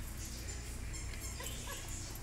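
A six-month-old puppy whimpers softly at a puppy playtime, faint high whines set against a steady, noisy background with no clear talk.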